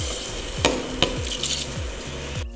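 Basmati rice spills into a pot of boiling water and vegetable oil for spiced Comorian mandi rice, a steady bubbling hiss broken by two sharp clinks and several low sliding scrapes against the pot.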